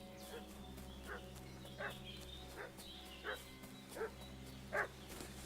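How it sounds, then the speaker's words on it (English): A dog barks in the video game Kingdom Come Deliverance 2, with about seven short barks spaced irregularly over background music and ambient noise, moderately near but not loud. "What's that dog making such a fuss about?"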